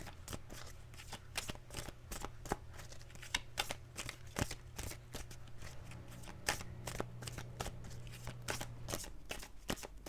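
Tarot cards being shuffled in rapid, crisp riffling bursts that repeat steadily for about ten seconds, close and moderately quiet, with a low steady hum underneath and no voices.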